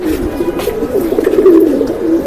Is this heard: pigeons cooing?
yes